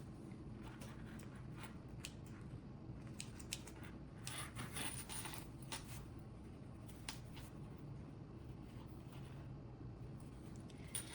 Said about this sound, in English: Now I will trim this zipper.